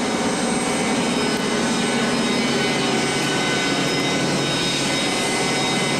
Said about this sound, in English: You're probably hear the radio rack fan running